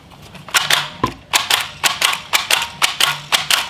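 A Blitz C20 pricing gun is squeezed over and over to feed labels, giving a run of about eleven sharp, close mechanical clicks at a brisk, fairly even pace.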